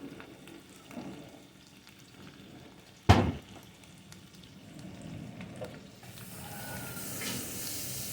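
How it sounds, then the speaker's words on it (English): Water poured into a hot pan of onions, garlic and mushrooms, a brief sharp burst of sizzling followed by steady bubbling and hissing, close by with no talking. "And then I'm going to add some water to this."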